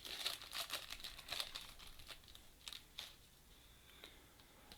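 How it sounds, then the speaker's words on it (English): Close, faint crinkling and tearing of a foil Panini baseball card pack wrapper being ripped open, in a few bursts of crackle with brief pauses between. "And our next pack. Ooh, these ones do not rip very easily."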